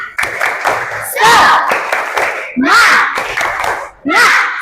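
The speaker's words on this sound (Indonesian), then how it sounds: "Kita tepuk semangat dulu" A class of schoolchildren performs the rhythmic 'tepuk semangat' clap: quick patterned bursts of many hands, broken by loud group shouts chanted in unison, close and lively.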